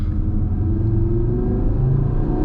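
A 2019 Audi TT RS engine pulling hard through one gear while driving, a loud, steady low rumble with a rising drone heard from inside the car, continuous and without talk.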